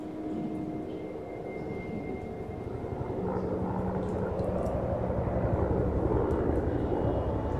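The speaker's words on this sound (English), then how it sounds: "A helicopter!" A low aircraft engine drone swells steadily, growing louder as it approaches overhead, a continuous rumbling roar with no talking.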